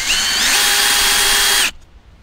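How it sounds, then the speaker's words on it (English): A power drill with a hole-saw arbor bit bores into concrete in one loud, steady, high-pitched whine lasting under two seconds, then stops abruptly and leaves near silence. "I'm gonna go ahead and drill that through right now."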